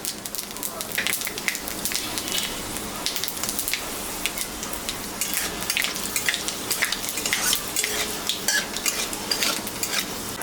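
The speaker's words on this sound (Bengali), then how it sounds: "পাঁচফোড়ন, সম্বরা দিলাম" Dry red chillies and panch phoron tempering in hot oil left over from frying puti fish, a close, dense crackling sizzle with sharp pops that carries on steadily and loudly throughout with no voices.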